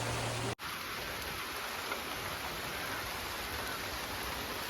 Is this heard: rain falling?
yes